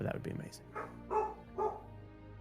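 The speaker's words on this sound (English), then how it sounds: "And that's my dog" A dog barks three times at a steady pace, fairly close, while a person speaks over the first bark.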